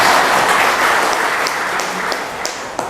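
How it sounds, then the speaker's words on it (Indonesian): An audience at a workers' union gathering applauds a union leader, with dense, loud clapping that runs steadily and tapers slightly toward the end. "tepuk tangan untuk beliau"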